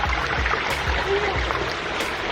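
Water runs down a backyard pondless waterfall stream over rock, a steady, moderately close rush and trickle with faint splashes throughout.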